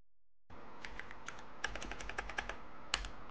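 Quick keystrokes on a computer keyboard while entering a username and password for a Kali Linux login, heard as a close, crisp run of irregular clicks after a moment of silence.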